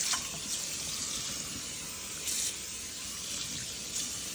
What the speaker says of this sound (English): And so just wash all that soap down the drain.